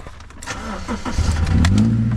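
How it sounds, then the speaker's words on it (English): A 2012 Subaru Legacy that previously would not crank starts up, its engine cranking and catching, then settling into a loud, rough run close by with no talk over it. "This thing should start now."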